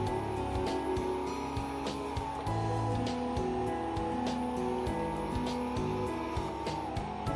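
A Bugatti engine in a racing video game drones with shifting tonal pitch, punctuated by repeated sharp clicks and brief tire squeals, steady and fairly loud with no speech.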